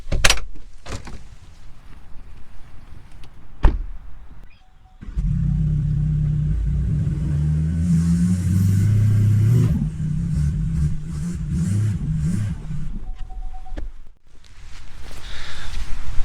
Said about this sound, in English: I'm going to try moving the truck a little bit back and forth first, see if I can't maybe wiggle out.